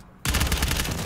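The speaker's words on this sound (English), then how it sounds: "Mike Crook will just unload on that location." A rapid, loud burst of automatic gunfire in a competitive shooter video game match erupts after a brief quiet moment, the shots rattling close in quick succession.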